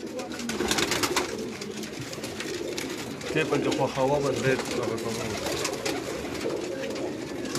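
A big-headed pigeon gives repeated low, bubbling coos on a rooftop loft, near and loud, with other pigeons calling around it and someone talking intermittently over the flock.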